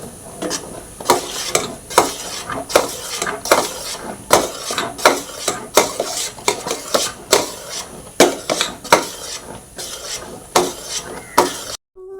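Milk made from anganwadi milk powder heating in a pot for paneer, stirred with a ladle: repeated scraping, clinking strokes against the pot in a steady rhythm over a soft sizzling bubble, close and fairly loud with no talking.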